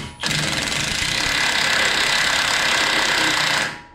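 A pneumatic impact wrench runs continuously for about three and a half seconds, loosening a threaded bolt while installing Eibach Pro-Kit lowering springs on a Kia EV6. The buzzing hammer is loud and close, with no talk over it.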